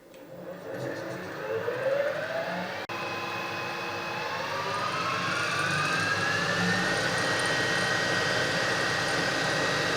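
A Harrison universal milling machine being serviced spins up to about 2000 RPM, its motor and gearing whining in a rising tone that climbs and then holds as a steady, loud mechanical drone close by.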